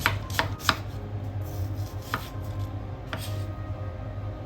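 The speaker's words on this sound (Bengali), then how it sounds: "দুটো পেঁয়াজকে ভালো করে ফাইন স্লাইস করে নিতে হবে" A knife finely slices two onions on a board, giving several crisp, distinct cuts that come singly and irregularly over a low steady background hum, with no talking.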